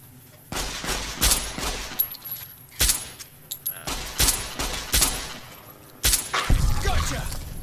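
Suppressed .45 1911 pistol fire in the video game Fallout New Vegas: scattered sharp cracks and snaps, several close together, mixed with clinking and jangling, at moderate level against a faint background.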